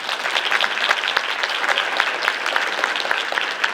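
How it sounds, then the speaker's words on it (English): Audience applause at a high school female athletes of the year awards ceremony, a dense, steady patter of many hands clapping at once, loud and sustained throughout with no talk over it. "give these young ladies a big round of applause"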